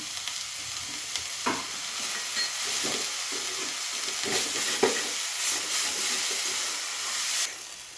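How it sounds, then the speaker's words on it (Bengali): Chickpea greens going into a pan of spiced potato and eggplant, a steady loud hiss of frying with steam, broken by several sharp clacks and scrapes of stirring, no voices. "এখন আমি শাকটা দিয়ে দেবো। আমি ছোলার শাকটাকে দিয়ে দেবো।"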